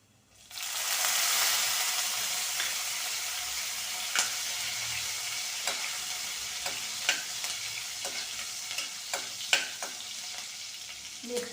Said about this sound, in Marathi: तेल थोडं तापलं की त्यामध्ये मी जिरं घालणार आहे जिरं घालते बघा आणि हिरवी मिरची घालते बघा